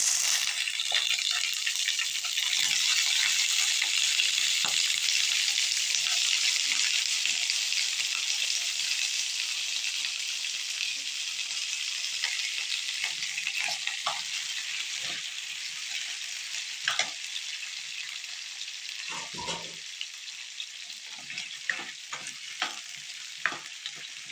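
Eggplant pieces sizzle and crackle steadily in hot oil for an oil-eggplant curry, a close, continuous frying hiss punctuated by scattered stirring clinks and scrapes, with no talking.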